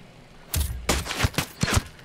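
A sniper shot in the tactical shooter Ghost Recon Wildlands: a sudden sharp crack followed by a short cluster of further punchy reports, loud and close against a quiet background.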